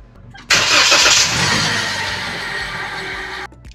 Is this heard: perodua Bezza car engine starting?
yes